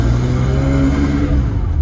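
A Porsche 911 SC with a 3-litre flat-six pulls hard in low gear, giving a loud, close, throaty growl that holds steady throughout.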